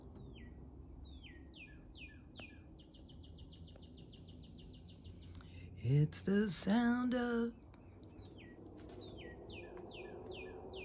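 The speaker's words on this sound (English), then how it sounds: "bird singing." Birds sing outdoors with repeated bright chirps and short trills throughout, and a voice speaks briefly in the middle over the birdsong.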